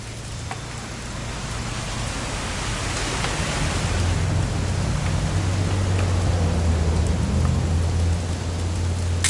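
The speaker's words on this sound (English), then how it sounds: "It's gonna rain the whole weekend," Steady rain falls in the video game What Remains of Edith Finch, a continuous broadband hiss with a low rumble underneath, even and unbroken throughout with no voices.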